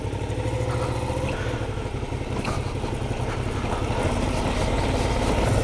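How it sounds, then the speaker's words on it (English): Suzuki V-Strom 650XT motorcycle engine chugging steadily at low revs on a back road in Newton County, Arkansas, a continuous close rumble with even loudness throughout. "this little motor is just perfect for this kind of stuff right here. It's just chugs and chugs and pull you right up anything"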